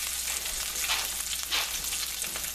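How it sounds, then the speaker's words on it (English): Onions, going in after cod fillets for a Lyonnaise dish, fry in a hot pan with a fairly loud, continuous crackling sizzle over a short stretch, with no talk. "Put the onions right in there."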